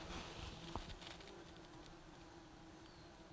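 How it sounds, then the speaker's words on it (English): A dense swarm of flies at an outdoor bushcraft camp beside a traditional Nordic log fire hums in a steady, faint drone that continues without pause. "There is just a crazy amount of flies."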